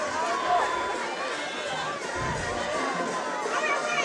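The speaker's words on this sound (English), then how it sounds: "this Jackson Olin crowd on this side of the field really getting into it" A high school football crowd at a Jackson Olin game roars and cheers from the stands, a dense, steady wash of voices and shouts, with a commentator talking over it.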